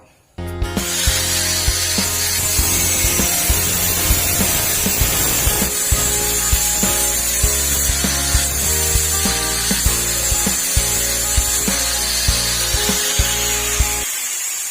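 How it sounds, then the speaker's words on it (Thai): An angle grinder cuts off a protruding bolt head on an old motorcycle shock absorber being converted into a sliding door handle, giving a loud, continuous high-pitched grinding whine with a metallic rattle for about fourteen seconds. "ส่วนหัวน็อตที่โผล่มาเดี๋ยวตัดฮะ ใช้ลูกหมูตัดนะครับ"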